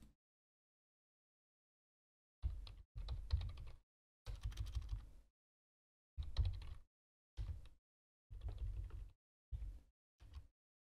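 Code is typed on a computer keyboard in several short bursts of rapid, close clicking, separated by pauses of silence, with no speech.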